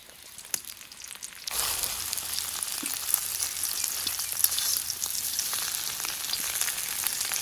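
Four eggs frying in oil over a wood-fired clay stove, a loud continuous crackling sizzle that bursts in after a quieter opening and carries on steadily up close.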